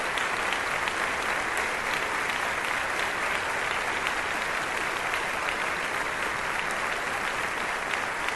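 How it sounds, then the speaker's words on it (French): A church congregation at a Bogotá church opening applauds its donors, a steady, even wash of many hands clapping that holds at constant strength for over eight seconds with no voices standing out. "Un fort applaudissement pour toutes ces personnes"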